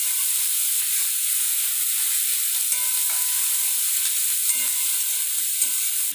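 Chopped capsicum sautéing with ginger garlic paste in a pan for pav bhaji, a steady bright sizzle and hiss with faint scraping of stirring underneath, continuous and fairly loud, no voices.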